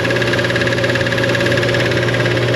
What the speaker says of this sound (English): Compressor don't sound too happy about the whole situation.